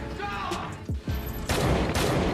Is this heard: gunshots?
yes